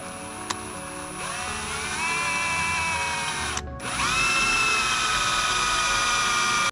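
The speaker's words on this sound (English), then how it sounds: "I'm going to start with a smaller drill bit just to get through. It is thick steel." Power drill with a small bit boring through thick steel for a boat trailer winch post, a loud steady whining grind that rises in pitch, briefly stops, then restarts and runs on close to the mic, with no talk.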